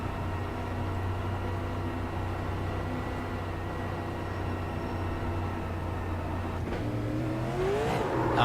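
Onboard engine of a stock car in a racing video game at Talladega, droning loud and steady throughout, with a rising rev near the end as the gears shift.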